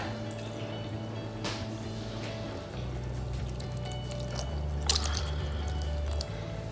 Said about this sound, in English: And I'm just going to add some water.